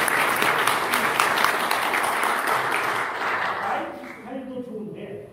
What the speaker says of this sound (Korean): 박수 한번 치주세요.